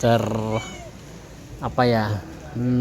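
A cat meowing repeatedly, three or four close, loud, drawn-out mews separated by short pauses, clear and up front with little else around them.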